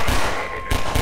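Half-Life 2 gunfire: a short burst of sharp shots with a brief pause before another quick volley, loud and close in a game scene.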